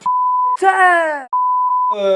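Two long, steady censor tones blank out spoken words on a French reality-TV talk segment, each flat beep cut off abruptly and alternating with brief bursts of voice.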